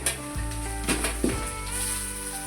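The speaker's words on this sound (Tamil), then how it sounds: "இஞ்சி பூண்டு வெங்காயம் நல்லா வதங்கி போச்சு" Ginger, garlic and onion sizzle steadily while sautéing in a pan for wedding-style brinji rice, with a few soft clinks of a spoon against the pan over the constant frying hiss.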